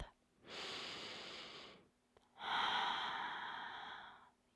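Two long, deep breaths during a yoga class focused on hip stretching, each a slow, airy inhale or exhale lasting over a second, close and soft, separated by a brief pause with no talking.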